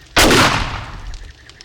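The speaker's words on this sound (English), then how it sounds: "gunfire" A single loud gunshot from a firearm in the survival game 7 Days to Die, a sharp close blast with a decaying tail and no other sounds.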